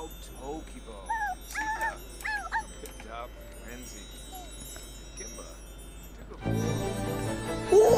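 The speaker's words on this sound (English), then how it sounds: "All right, Lexie has grown from a pup into an adult dog." A dog in The Sims 4 game gives a run of high whimpers and yips, then a louder burst of game sound and barking near the end, with background music throughout.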